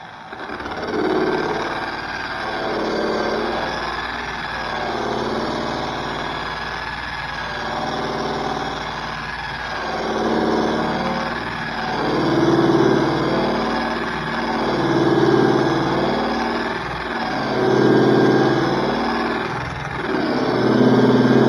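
A Harbor Freight Bauer SCT surface conditioning tool sands with a 40-grit wheel, a loud steady motor whine with rhythmic swells as the abrasive is pushed across the surface.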